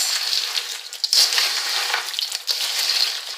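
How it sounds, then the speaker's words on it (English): A spoon stirs puppy chow in a heavy pan, turning it over from the bottom in a steady, close, dry rustling and scraping that carries on throughout with small crunchy bursts. "the trick to this is to stir it without crushing it"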